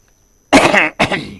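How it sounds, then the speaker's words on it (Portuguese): A pair of harsh, raspy coughs close to the mic after a moment of silence, the first longer and the second a short follow-up. "Tenho muita tosse, é sério."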